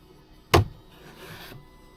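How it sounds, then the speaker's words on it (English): A clamp coming off a jukebox cabinet during the build gives one sharp, loud knock or clack, followed by a quieter scraping, handling rustle lasting about a second, with no voices. "time for the clamps to come off"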